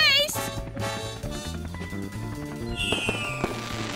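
Fireworks bursting in the air over a musical backing, with repeated crackling booms and a rising whistle near the end, fairly loud and continuous.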